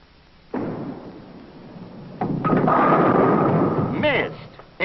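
A heavy bowling ball rolls and crashes into pins across three alleys in a 14-pin trick shot, a sustained loud rumble building to a scattering clatter, with a commentator's voice over it.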